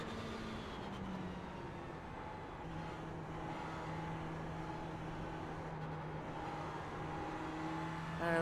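A Ferrari 488 GT3 race car engine in iRacing at Tsukuba drones steadily at moderate volume, a sustained tonal hum that shifts pitch slightly as it runs on, with no speech.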